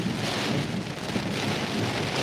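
Heavy rain and wind from a serious storm pelting a storm-chasing truck's windshield, a constant dense roar of drumming drops and rushing air, steady and close with no voices.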